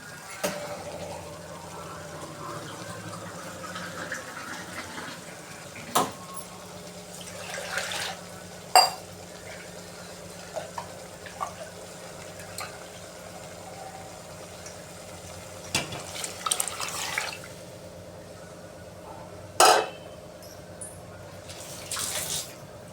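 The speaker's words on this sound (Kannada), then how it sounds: "ಕುಕ್ಕರಲ್ಲಿರೋ ದಾಲಲ್ಲೇ ಸ್ವಲ್ಪ ನೀರು ಹಾಕಿ ಆ್ಯಡ್ ಮಾಡ್ತೀನಿ" Water being poured from a glass into cooked dal in a pressure cooker while making idli sambar, a quiet trickle under a low background hum, dotted with a few sharp clinks and splashes.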